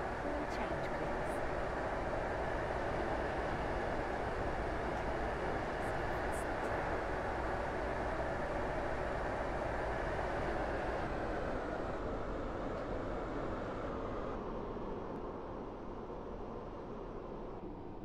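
A Roblox railway-game train pulls into Morganstown with a loud, continuous broadband rumble that eases slightly near the end, and a voice comes through faintly beneath it.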